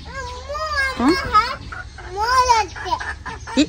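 Ducklings call with a few high, rising peeps and chirps close by. Human voices mix in around the calls.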